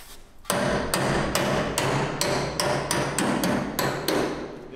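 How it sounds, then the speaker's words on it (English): A hammer strikes metal on a Ford F550 truck about a dozen times in a steady, even rhythm: sharp, close, ringing blows with nothing else heard. "You just finish it off with the hammer."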